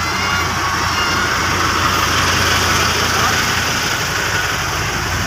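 A heavy diesel truck engine, a self-loading carrier hauling an XGMA motor grader, rumbles steadily at idle, loud and close, with a constant broadband drone and no clear voices.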